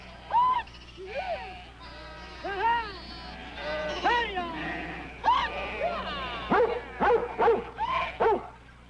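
Sheep bleat repeatedly in wavering, overlapping calls, some near and some farther off, with a steady low hum underneath.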